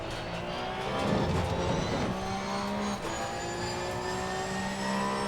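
A Porsche Cup race car at Monza in Assetto Corsa Competizione, its engine droning at high revs near the limiter, with a quick shift and a short burst of tire noise early on.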